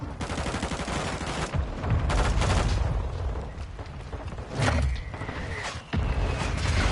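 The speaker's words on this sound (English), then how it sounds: "Friendly mortar strike inbound." Heavy mortar explosions and gunfire in Modern Warfare 2 roar almost continuously, with several deep booming bursts standing out from a dense, loud battle din.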